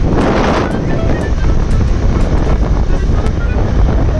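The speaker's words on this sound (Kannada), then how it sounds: "ಗಾಳಿ," Strong wind roars steadily against the microphone while riding a motorbike at night in Bangalore, a loud continuous rushing with no pauses.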